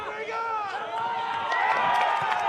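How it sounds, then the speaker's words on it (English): A football crowd in Tasmania roaring after Kingborough Tigers score a goal: a sustained roar of many voices that swells slightly, under clear commentary. "The roar of the crowd tells you all you need to know"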